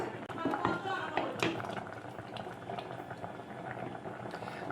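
Rice bubbling at a steady boil in a pot, a constant close bubbling texture with a few louder pops and a faint clink near the start, continuing throughout without pause.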